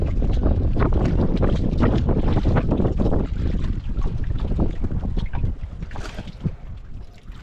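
Strong wind buffets the microphone in a constant loud roar, with water sloshing faintly underneath.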